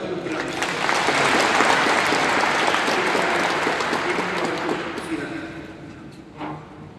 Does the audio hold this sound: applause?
yes